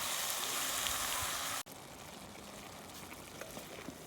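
Ground beef for chili browning in a hot pan. A loud, dense sizzle fills the first part, then cuts off abruptly and returns as a quieter crackle with scattered pops.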